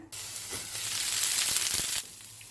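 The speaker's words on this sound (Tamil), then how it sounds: "மிதமான தீயில் வேக வைக்கணும் கருகிராம" Chettinad adai dosa batter sizzles and hisses steadily on a hot griddle over medium heat for a couple of seconds, then the frying noise drops away abruptly.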